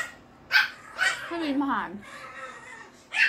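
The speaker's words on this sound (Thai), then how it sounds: "แค่มีเสียงหมาอย่างเดียวด้วย" Dogs barking near a shop in Pathum Thani, Thailand: a few sharp barks with a whining, wavering yelp between them, close by, with someone talking over them.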